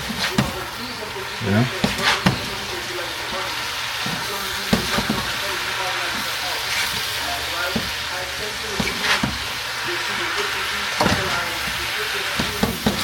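Shrimp for a peppa shrimp dish sizzle steadily in a pan, with the hiss of frying running throughout and the scrape and knock of stirring coming through at intervals.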